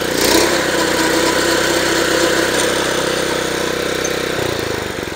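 A California Trimmer reel mower runs with its reel sped up, giving a steady, loud mechanical engine drone with a rattling whir that holds throughout, then drops in pitch near the end, with no talking.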